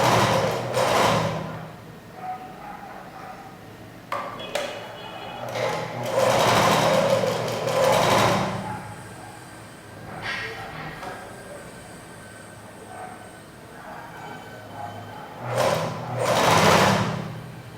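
Sewing machine stitching a blouse seam, running in close, steady whirring bursts separated by short pauses, with a faint rumble of room noise between runs.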